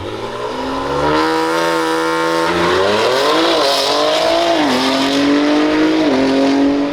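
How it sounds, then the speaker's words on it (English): Cars roar through burnouts and races at an auto show, with loud sustained engines climbing and dipping in pitch as they rev, mixed with tire squeal and a steady hiss of crowd and outdoor noise. "Got some crazy races and burnouts happening over there."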